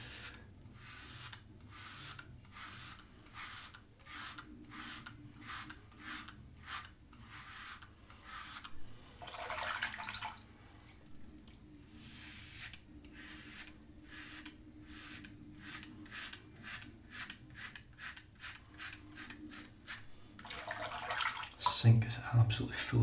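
Rhythmic swishing and rubbing water in a completely full sink as a Leaf razor is rinsed during a head shave, the strokes repeating steadily up close, with a clatter of the razor near the end.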